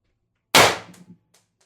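A single sharp shot from a 4x12g CO2 stock-build airgun: a loud, close crack that decays quickly, followed by a couple of faint clicks, with no talking.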